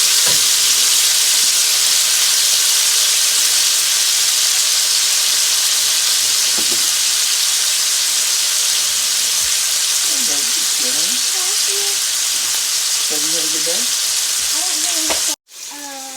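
Venison steak sizzles and fries in a pan with a loud, steady hiss, broken by a few faint clinks and scrapes before an abrupt cut near the end.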